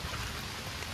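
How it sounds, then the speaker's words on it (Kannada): Steady rain falling outdoors, a dense continuous hiss of drops on surfaces with no breaks, fairly soft and even throughout. "ಇದು ಮಳೆ ಒಂದು ನಿಲ್ಲುದಿಲ್ಲ"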